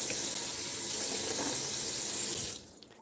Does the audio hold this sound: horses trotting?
no